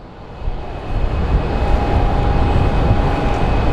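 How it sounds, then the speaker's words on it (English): An Airbus A319 airliner at Phoenix Sky Harbor airport, a broad steady engine roar that swells after the first second and then holds, with a faint whining tone over it. "So it's an Airbus A319 sent to San Jose."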